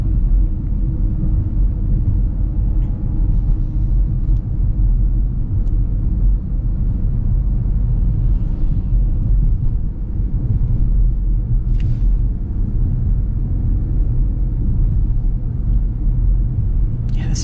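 A 2025 Ford Mustang Mach-E Rally electric car drives in Rally Sport mode, heard from inside as a steady, loud low rumble of road and motor sound with no pauses.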